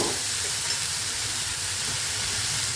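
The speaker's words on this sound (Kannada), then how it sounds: "ನಂತರ ಈ ರೀತಿಯಾಗಿ ನಾವು ಅದನ್ನು ಎಣ್ಣೆಯಲ್ಲಿ ಫ್ರೈ ಮಾಡ್ಕೊಳ್ಬೇಕಾಗ್ತದೆ." Moringa leaves frying in hot oil, a continuous loud broadband sizzle and hiss, steady and close, with no talking.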